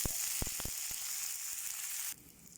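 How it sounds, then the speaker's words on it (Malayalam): Mustard seeds crackle and pop in hot oil with a few sharp bursts over a steady bright sizzle, then chopped shallots drop in and the frying settles into a softer, lower hiss; no voices. "കടുക് പൊട്ടുമ്പോൾ ചെറിയ ഉള്ളി ഇടുക"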